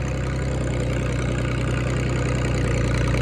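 A Hydra-Mac 8c skid steer's engine runs steadily nearby, a loud, even low rumble with a continuous mechanical drone and no change in pace, with no talking over it.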